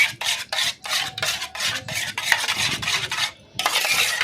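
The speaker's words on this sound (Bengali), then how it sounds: "ডিমটাকে ভালো করে ফাটালাম" Eggs are beaten briskly in a bowl, with rapid rhythmic whisking strokes in close succession and a short pause near the end before the beating resumes, loud and near.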